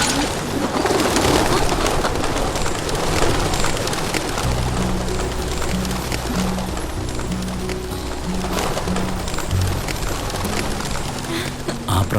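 Pigeons cooing and taking off in a Malayalam film scene, loud and continuous, with a steady wash of coos and wing flutter under layered, patterned music throughout.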